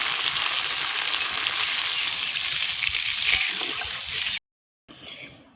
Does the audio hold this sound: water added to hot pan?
yes